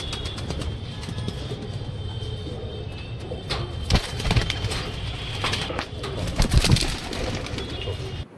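Pakistani Kalsira pigeons from an old bloodline coo nearby in low, repeated murmurs over a busy loft background with wing flaps and shuffling, and one louder burst of fluttering near the end.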